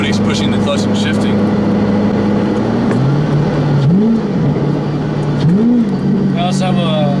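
A 2010 Mustang GT with its 4.6 V8 and a lighter flywheel drones steadily from the cabin, pitch rising and falling in a couple of quick rev swells, with speech over the engine throughout.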